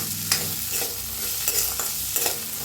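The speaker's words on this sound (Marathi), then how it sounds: "आता पहिला आपण हरभरा भाजून घेऊया, हरभरा आणि मटर।" Chickpeas and green peas dry-roasting in an iron wok give a continuous crackling sizzle, with repeated scraping stirs and light rattles of the pulses, close up with no voices.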